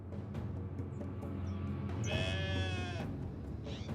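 A flock of sheep bleats nearby, one long wavering bleat standing out clearly over a low steady rumble and softer calls around it, with no voices present.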